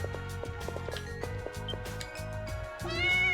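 A cat meows in the video game Ys: Memories of Celceta, with short calls set over continuous in-game music.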